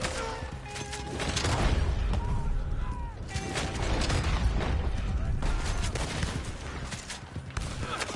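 Shotgun fire in the Red Dead Online video game, dense repeated gunshot bursts with clanking, ratcheting weapon mechanisms, loud and close, with a voice speaking faintly underneath.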